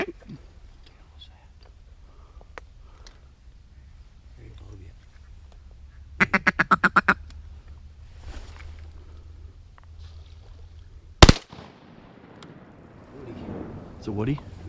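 Ducks quack during a Wisconsin morning hunt from a blind, birds flying in with mallards, gadwall, wigeon and pintail about; a quick rhythmic burst of calls stands out midway, then a sharp loud crack, with soft whispered voices and rustling throughout.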